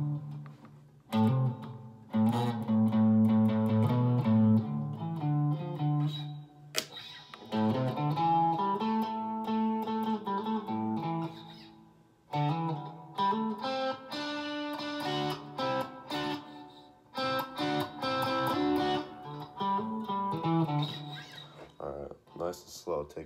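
An electric guitar with a distortion effect is played in slow practice runs of scales and noodling, sustained notes ringing close up with brief pauses between phrases.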